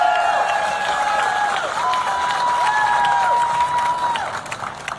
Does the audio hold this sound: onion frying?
no